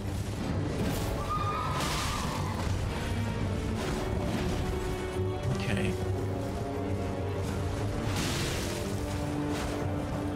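Knight's Cavalry horse neighing in the Elden Ring video game, a whinny rising over dense battle noise with crashes and booms, loud and continuous throughout.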